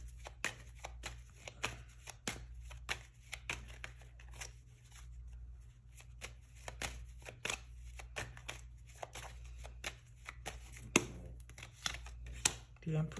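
Tarot cards shuffled close up make a long series of crisp, rapid riffling snaps and soft card slaps in an uneven rhythm, quiet and alone without talk.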